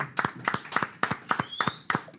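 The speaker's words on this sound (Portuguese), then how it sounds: "Palmas para Matheus Emanuel." A single person claps sharply and rhythmically, about eight close, crisp claps in steady tempo with no talking over them.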